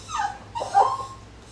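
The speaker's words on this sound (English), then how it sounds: "Just listening to him, the little puppy cries." A roughly six-month-old foster puppy whimpers and cries close by, two drawn-out, high, wavering whines in quick succession, fairly loud and with no talking.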